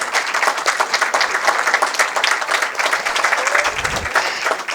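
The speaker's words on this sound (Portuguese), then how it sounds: "Vamos coroar este momento com uma salva de palmas." A crowd applauds at a formal ceremony about Amazon forests and communities, a loud continuous roar of many hands clapping with no talking.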